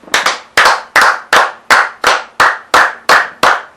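A congregation at a church prayer service claps in unison, about ten loud, sharp claps on a steady, even beat, with no voices.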